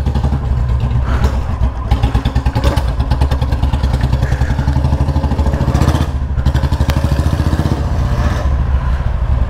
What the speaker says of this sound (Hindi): दो दो बुलेट शोर मचा रहे